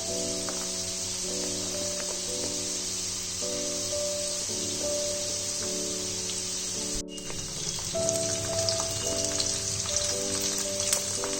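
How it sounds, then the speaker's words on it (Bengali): Potatoes and pointed gourd fry in oil with a steady, close sizzling hiss. Faint melodic tones play in the background, and the sizzle grows a little louder toward the end. "ভালো করে ফ্রাই করে নিতে হবে, আর চেক করে নিতে হবে যাতে আলুগুলো ভালো করে সেদ্ধ হয়ে যায়।"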